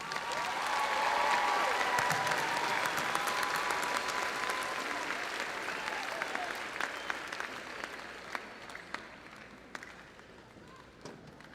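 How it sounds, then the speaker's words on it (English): Families and educators at a 2026 North High School graduation give the graduates a long round of applause, a dense wash of many hands that is loud at first and gradually thins out, with a few sharp claps near the end. "Family and educators, let's give our graduates a round of applause."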